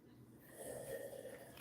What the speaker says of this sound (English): Excuse me, I'm sorry for blowing my nose